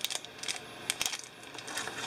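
Metal cable lock and keys from a Smith & Wesson Bodyguard 380 gun box set down, a few close, bright clinking taps spread irregularly over two seconds.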